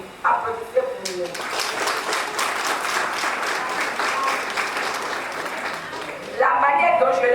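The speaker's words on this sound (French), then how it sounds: "je vous en prie, applaudissez pour lui." Applause at the first Miss Mélanine pageant, dense rapid clapping from the audience sustained for several seconds, fairly loud, with a voice speaking over the end as it tapers off.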